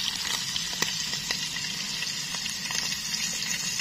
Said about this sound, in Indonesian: Ini sekarang lagi proses goreng karena gorengnya satu persatu jadi rada lebih lama